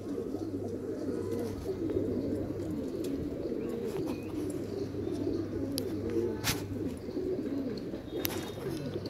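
A female Madrasi black pigeon gives soft, low, rolling coos, faint and fairly steady beneath light background noise.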